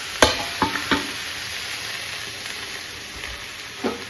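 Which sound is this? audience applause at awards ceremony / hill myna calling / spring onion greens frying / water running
spring onion greens frying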